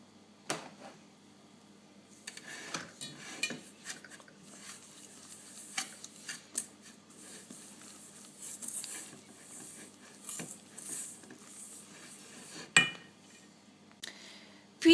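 Eggs being mixed vigorously into apple cake batter in a bowl, heard as a steady run of light clinks and scrapes of utensil against the bowl, fairly faint and close, with no talking.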